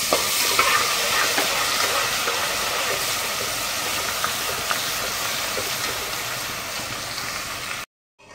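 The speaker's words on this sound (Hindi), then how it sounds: "अब हम इसमें लहसुन अदरक का पेस्ट डाल देंगे।" Ginger garlic paste frying with whole spices in a pan for chicken biryani, a steady, close, dense sizzle and hiss that holds throughout with no talk, then cuts off abruptly at the end.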